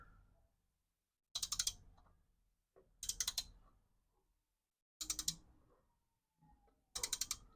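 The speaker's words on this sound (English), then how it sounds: "with inch pounds, it doesn't take much to get the wrench to actuate" Torque wrench tightening Holley intake manifold bolts in inch pounds on a Blazer, with four separate bursts of quick close ratcheting clicks separated by quiet gaps and faint handling noise.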